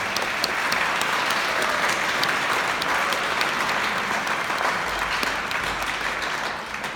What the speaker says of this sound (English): If we could give them a round of applause, I would really appreciate it.